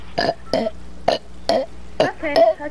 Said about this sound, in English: Hey, I can burp infinite times.